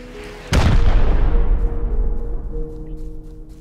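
A single loud, close rocket blast in the video game Rust hits sharply, then a long rumbling decay trails off over a few seconds beneath a steady low hum.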